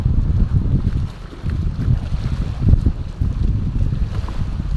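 Strong northeast monsoon wind gusting across a harbour where a boat has sunk, a loud rumbling roar buffeting the microphone in uneven surges, with water and boat noise mixed underneath and nobody speaking.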